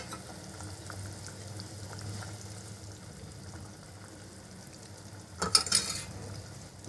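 Dhokli dropped and stirred into a boiling Kathiyawadi gravy, a faint low simmer with soft stirring, then a short burst of clattering and splashing near the end.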